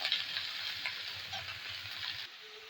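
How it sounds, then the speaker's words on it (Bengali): Potato, eggplant and cauliflower fry in a pan while being stirred, making a steady close sizzle with faint scraping stirs that drops off abruptly near the end, with no talking. "আলু বেগুন কপি সব দিয়ে দিচ্ছি, এসব দিয়ে দিচ্ছি, নাড়াচাড়া করে নিচ্ছি"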